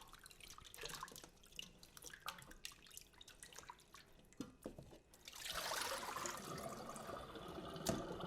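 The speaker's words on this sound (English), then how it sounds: "The main point here about washing it in water is to take out some of that smell" Raw meat rinsed under running water, with drips and trickles splashing softly in a sink and a louder, steadier gush of water near the end.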